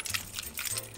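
A bunch of car keys jangles close by in a short burst of bright metallic clinks over low background rumble.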